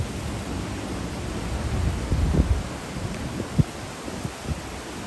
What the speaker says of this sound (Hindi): जोर की हवा है।